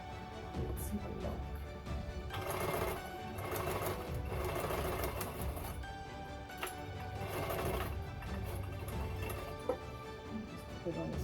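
A sewing machine stitches cushion fabric for a chaise lounge, running in steady whirring bursts with short pauses between them, close and clear. Quiet talk is heard faintly beneath the machine.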